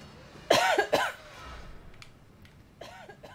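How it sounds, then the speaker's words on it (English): A person coughs twice in quick succession, close and fairly loud, then coughs once more faintly a couple of seconds later, with quiet room noise in between. "Sorry for the coughing"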